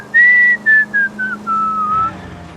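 A single clear whistled tune in the video game L.A. Noire, a run of short descending notes followed by a longer held note, close and loud, alone over faint background hum.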